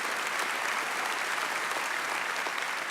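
Audience applause for Hugo Izzo and Liz at an MVMT church gathering, a steady, dense wash of clapping from a large crowd, loud and continuous for the whole stretch.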